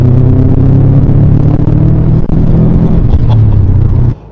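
A loud car with reinforced front and rear silent blocs drones close by, a heavy low rumbling engine note held steadily before cutting off abruptly near the end.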